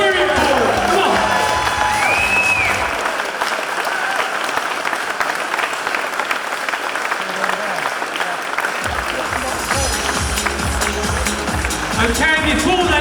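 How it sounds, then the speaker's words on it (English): Audience applause and cheering at a cycling time-trial awards presentation, a dense sustained wash of clapping with scattered whoops filling the room, loud and continuous throughout, with a voice briefly audible in the crowd. "big round of applause, everyone"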